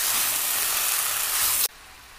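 Spinach sizzling and frying in a hot pan makes a steady, bright hiss that cuts off abruptly near the end, with no talking over it.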